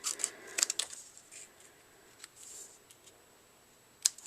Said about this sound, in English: I'm going to grab a pair of scissors, and I'm going to trim off some of that excess.